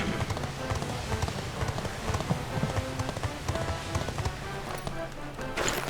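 Steady rapid hoofbeats of a horse being ridden in the video game Dragon Quest XI, a continuous rhythmic clip-clop at moderate volume.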